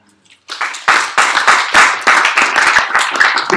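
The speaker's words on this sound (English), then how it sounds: "I think you should clap there." Clapping from a congregation during a sermon, starting from silence and building into a series of sharp, closely spaced claps that continue steadily at close range.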